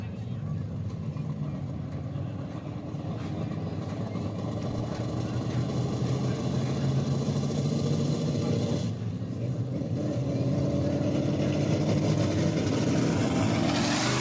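Sprint car engines rumble and rev at a dirt track, a continuous layered drone that swells louder toward the end, with some background voices beneath.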